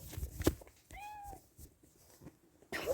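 A house cat gives one clear, fairly near meow in the middle, with clattering and knocking household noises before it and a burst of rustling handling sounds at the end.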